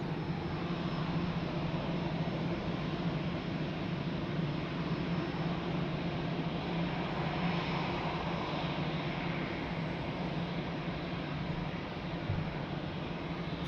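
A DHL cargo airplane at Lisbon Airport produces a continuous low, distant engine drone with a faint steady hum, fairly quiet and unchanging throughout.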